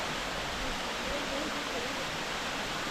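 Prince Henry waterfall in the Blue Mountains, New South Wales, heard as a steady, even rush of falling water that fills the scene without pause, moderately distant and unbroken.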